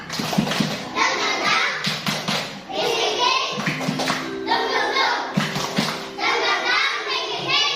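Schoolchildren in a classroom doing a group clapping routine, slapping hands and hips in rhythm; bursts of sharp claps alternate with children's voices and a teacher talking.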